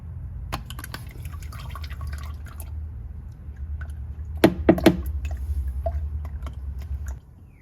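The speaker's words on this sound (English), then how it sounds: "this drains the oil that's in the filter so it doesn't go everywhere when you change it" Engine oil drips and trickles from the oil filter housing drain of a Golf GTI Mk5 with 200,000 km, soft liquid patter over a low steady hum, with a short cluster of wet splashes midway.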